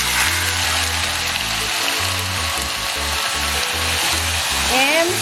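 Chicken pieces sauté in a hot pan for chicken curry, giving a steady loud sizzle and hiss, while a low rhythmic hum pulses beneath and a faint whistling tone rises near the end.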